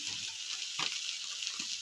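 Turmeric, salt and chilli powder frying in a little oil, a steady bright sizzle throughout with a couple of soft stirring knocks in the pan, no voices.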